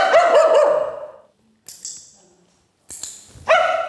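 A dog barks loudly and close in a home training session, a burst of several sharp barks followed after pauses by a couple more barks and a whimpering yip; no talk over it.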